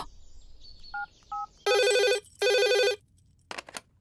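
A telephone rings with two long electronic trilling bursts, preceded by short beeps, during a call for a mechanic over a broken-down vehicle in a horror film; the rings are loud and clear with no voices.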